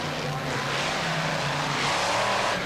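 Monster trucks roar over a row of junk cars in an arena, a dense continuous engine drone with broad rumble holding steady throughout, loud and close with crowd-like wash behind it.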